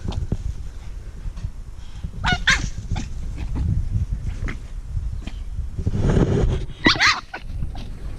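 A dog gives a few sharp, honking barks amid rustling and movement, with a louder burst near the end.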